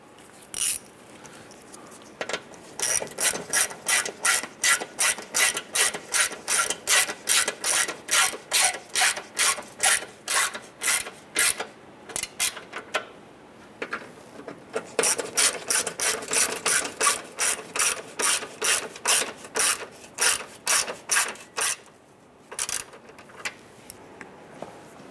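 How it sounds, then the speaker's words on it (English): Ratchet snugging down bumper trim fasteners on a 2005-2010 Chrysler 300, a long run of rapid, rhythmic ratcheting clicks in steady back-and-forth strokes with a few brief pauses, loud and close, with no speech. "let's go ahead and snug those down."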